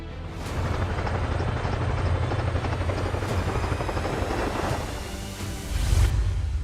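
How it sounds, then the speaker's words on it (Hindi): An Apache attack helicopter flies nearby with a steady rotor thump and whooshing roar, fairly loud and continuous, swelling briefly near the end. "advance combat helicopter"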